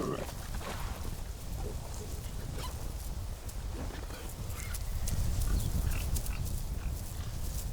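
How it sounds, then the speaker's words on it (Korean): Six wild boars forage on a hillside, their hooves stepping and rustling in a steady scatter of soft clip-clop thuds over a dense, constant outdoor background. "멧돼지 발굽 소리에 놀란 것은 고라니."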